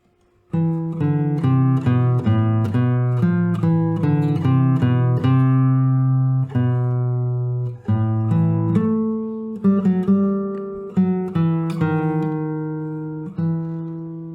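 A plucked guitar melody plays solo, clear individual notes ringing in a steady, measured line with a few brief pauses.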